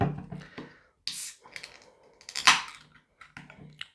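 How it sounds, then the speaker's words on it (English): A can of Brewery Ommegang Nitro Three Philosophers beer cracks open with a sharp click and brief hiss among a few close handling clicks and taps, followed by quieter rustles. "And we will crack it and pour it."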